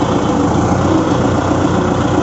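A Kubota MU4501 tractor with a balancer shaft sits idling, its diesel engine giving a steady, loud, close low drone with constant vibration and no change in pace.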